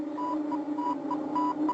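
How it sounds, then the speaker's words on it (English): A cartoon spaceship's sonar radar beeps in a steady repeating pattern of short tones over a low hum, clear and moderately loud with no talk. "Hear that beep?"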